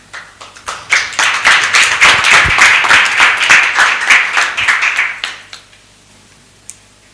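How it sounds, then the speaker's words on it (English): An audience at a conference opening ceremony gives a round of applause, loud and dense clapping for about five seconds before fading out, with no speech over it. "Let's give my vice chair a warm round of applause."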